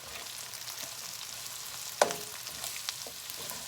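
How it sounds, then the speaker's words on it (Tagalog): Beef frying in a pan gives a steady, fairly soft sizzle, broken by one sharp clink of a utensil against the pan and a few lighter taps and stirs, with no one talking. "The beef is cooking for like 3 minutes already."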